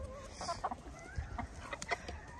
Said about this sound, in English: This is our blue-laced red wine dot rooster.